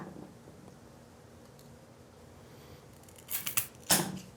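Dracaena plant stems being cut with scissors, a few crisp close snips near the end after a quiet stretch of faint rustling.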